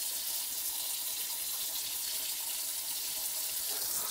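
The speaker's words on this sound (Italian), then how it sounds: "che si riempie d'acqua il lavabo della cucina" Tap water runs into a kitchen sink as it fills, a constant close rushing splash that holds at an even level throughout.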